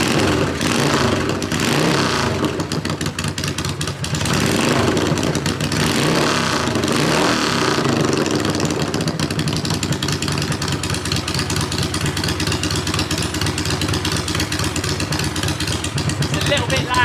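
A 1981 Yamaha XV750 cafe racer runs close and loud, its V-twin engine blipping and revving before settling into a rough, steady idle.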